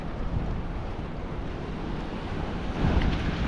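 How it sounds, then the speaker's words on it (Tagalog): Ocean waves wash in a steady roar with wind buffeting the microphone, swelling slightly louder toward the end. "Malalaki ngayon ng alon."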